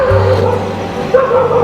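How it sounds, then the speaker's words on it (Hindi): Dogs bark in the distance at night beside a rural Indian house, the barks brief and set against a steady background hum. "बस कुत्तों की भौंकने की आवाज़ है।"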